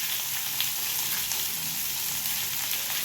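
Pomfret fish frying in a pan while being stirred, a steady close hiss of hot oil that holds even throughout with no talk.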